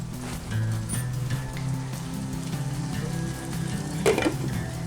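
Tomatoes cook under a lid in a pan for shrimp biryani, giving a steady soft sizzle and bubbling with a few brief clinks, close and moderately loud, with no talking.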